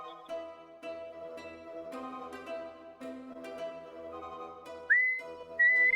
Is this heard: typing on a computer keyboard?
no